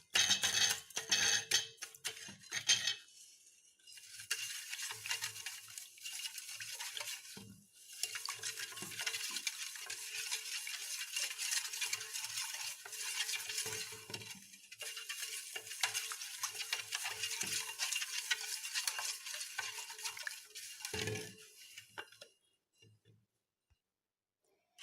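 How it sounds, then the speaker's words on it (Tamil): Sugar and butter are stirred in a pan as they melt, giving a steady sizzling, scraping hiss with occasional clinks of the utensil, continuing for about twenty seconds before stopping. "கொஞ்சம் சர்க்கரை நல்லா மெல்ட் ஆகட்டுங்க, அது வரைக்கும் கிளறிடலாம்"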